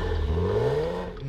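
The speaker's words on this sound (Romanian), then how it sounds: "am dat geamurile jos, chiar dacă era frig, ca să auzim motorul, deci motorul este ceva extraordinar" A Maserati engine revving, heard from inside the car through lowered windows, its rising tone climbing smoothly in a single short, loud pull.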